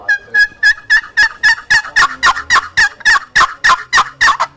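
A wooden turkey box call of Purple Heart and maple is stroked in a fast, loud, close series of about fifteen raspy yelps, each note breaking sharply from low to high in an even, steady rhythm.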